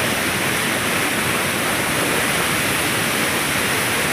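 The Cikadongdong river flows in a steady, dense rush of water, a continuous broadband roar close by with no pauses and no voices.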